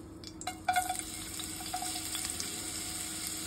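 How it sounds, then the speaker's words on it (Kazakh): Onion fries in a small amount of oil left in the pot, giving a steady close sizzle with sharp pops and crackles near the start that settle into continuous spitting. "Енді пиязды қуырамыз."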